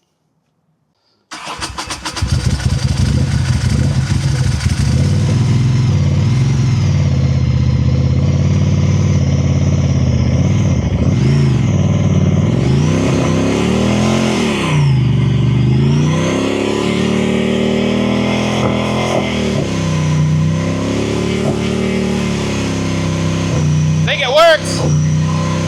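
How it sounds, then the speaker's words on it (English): A Ducati motorcycle engine fires up abruptly and runs loud and close, rising and falling through repeated revs during a burnout attempt, with a rough, pulsing roar throughout. "maybe we should see if it'll do a burnout"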